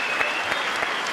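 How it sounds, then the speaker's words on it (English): A fight-event crowd claps steadily, a dense continuous patter of hands with no voices standing out. "a big round of that applause"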